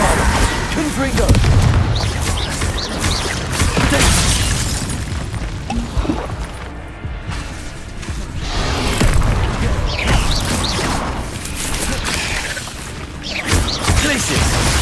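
Confringo explosive spells fired in a Hogwarts Legacy battle, heavy booming blasts and crashes repeating almost without a break over dense game noise, loud and close, with shouted spell names mixed in.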